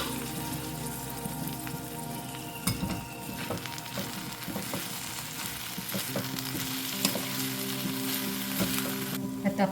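Dried fish (sukat) fries in a pan under a constant crackling sizzle, with intermittent scrapes and knocks of a spatula stirring it; no voices.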